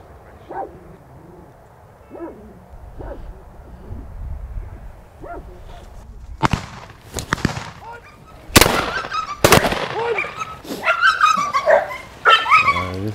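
Hunting dog baying at a fox den during a den hunt, a few sharp barks spread out at first, then louder, denser bursts close by toward the end.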